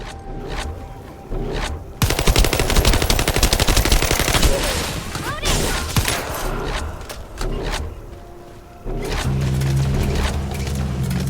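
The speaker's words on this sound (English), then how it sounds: "I'll operate turrets to keep the surrounding area secure." Rapid bursts of turret machine-gun fire from The First Descendant, dense and loud from about two seconds in, tapering into scattered shots with a low rumbling hum toward the end.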